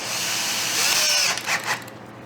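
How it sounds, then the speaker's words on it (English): A power drill driving small wood screws into a garage wall, a loud, steady, close whine that holds for over a second before breaking into a few short bursts as the screw seats, with no talking. "I'm just screwing these in with some small wood screws."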